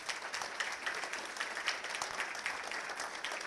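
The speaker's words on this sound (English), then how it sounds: "please join me in applauding the next generation of business professionals" An audience applauds at a high school business signing day ceremony, with steady, fairly soft clapping from many hands that holds an even level throughout.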